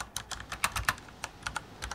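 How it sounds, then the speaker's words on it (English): Brisk typing on a computer keyboard, a steady patter of sharp key clicks with a few heavier strokes, close and clear with no voices. "What are you typing there?"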